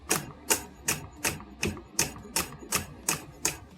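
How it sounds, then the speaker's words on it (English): A kitchen knife slices green onions on a cutting board, about ten crisp, evenly spaced chops in a steady rhythm, close and clear with no talking. "So I have 2 green onions here. We're going to cut those up, slice them."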